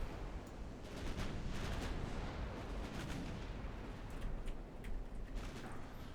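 Naval guns firing in a steel-leviathan fleet battle in Ultimate Admiral Dreadnoughts, a dense, continuous rumble of overlapping heavy gunfire with repeated booming salvos, loud and sustained, no talking.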